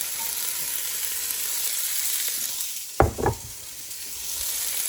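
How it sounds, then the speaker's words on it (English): Two onions are added to a hot pot of oil for pot roast: a steady hiss of sautéing runs throughout, broken near the middle by a couple of sharp, louder bursts as the onions drop in. "We're going to add in our 2 onions."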